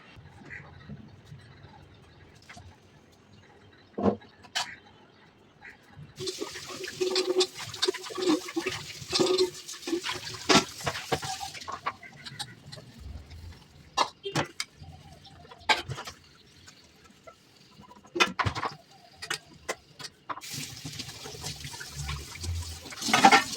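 Running water splashes and trickles while dishes are washed at home, with intermittent clinks and bursts of flow through the clip and occasional talk in the background.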